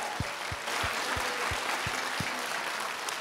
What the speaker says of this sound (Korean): 하나님께 박수요.